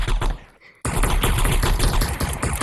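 Rapid automatic AK rifle fire in the video game Animal Rivals, a dense, loud burst after a brief gap, continuous and close for the rest of the stretch.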